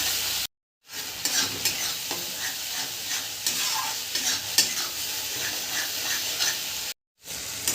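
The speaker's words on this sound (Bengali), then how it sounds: "অল্প একটু সর্ষের তেল দিয়ে আমি মশলাটাকে একটু কষিয়ে নেব ভালো করে" A spice paste made with cashew paste fries in mustard oil, stirred steadily with a spatula scraping the pan over a continuous sizzle and hiss. The sound is close and even, with brief silent gaps at the start and end.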